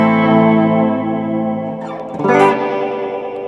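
Sustained electric guitar chords ring out with trailing delay from a Strymon Volante, repeats smearing into a wash before a second strummed chord swells loudly and decays.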